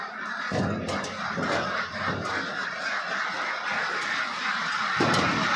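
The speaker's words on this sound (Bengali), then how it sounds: "তারপরে ছাড়ো হাঁস যাও" Farm ducks being let out of their pen, a loud, continuous flock of honking and quacking close by, with repeated overlapping calls filling the whole stretch.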